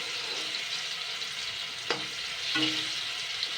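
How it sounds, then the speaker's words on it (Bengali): Chana dal fritters frying in a pan of oil, a steady close sizzle and crackle throughout, with a couple of brief clinks of a utensil as the fritters are turned. "হ্যাঁ এগুলো ভাজা হয়ে গেছে, দেখুন লাল লাল হয়ে গেছে।"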